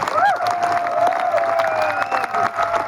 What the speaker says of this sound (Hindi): कितनी ताली होनी चाहिए?